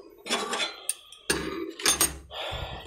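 A spoon stirring milk in a pot, heard as a few separate close knocks and scraping clanks of metal against the pan, with short quiet gaps between the bursts.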